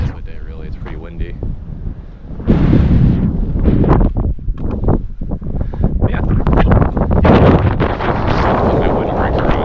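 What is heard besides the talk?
wind noise on a mountain ridge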